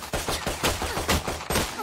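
Rapid bursts of gunfire in the shooter game Valorant, a quick run of loud, punchy shots in close succession with no speech.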